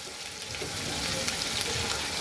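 Pointed gourd and cauliflower fry in a pan with a loud, continuous, close-up sizzle and fine crackling that stays steady throughout.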